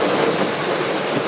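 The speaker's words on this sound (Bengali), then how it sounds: "শুক্রবারের বইমেলায় অপ্রত্যাশিত বৃষ্টির হানা" Sudden rain and hail pouring down on a Friday evening book fair in Bangladesh, a steady, dense hiss of drops drumming on surfaces throughout, with no voices.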